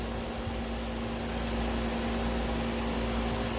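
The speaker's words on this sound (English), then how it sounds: "So I'll go ahead and just put the circulator back on." MBraun Unilab glovebox gas circulator switched on in a lab: a steady mechanical whir with a constant low hum and broad airy hiss, moderately quiet and unchanging, with no talk over it.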